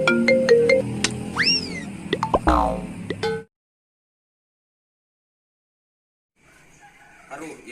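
A phone ringtone plays in a short comedic Sundanese household scene, a bright melodic tone with rising chirps under other sounds, then it cuts to silence before faint noise returns.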